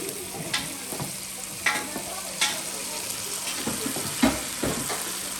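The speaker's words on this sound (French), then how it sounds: "Un petit peu de l'eau dedans pour déglacer le fond." Water poured into a hot pan to deglaze the base before saffron is added, a soft continuous sizzle with scattered stirring scrapes and clinks, quiet and close, no voices.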